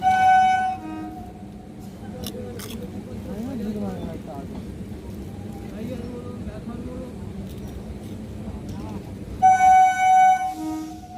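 A crossing train passing on a single-line railway on the Howrah to Amta local route, with a horn blast at the start and another near the end around a rumbling, clattering run of wagons.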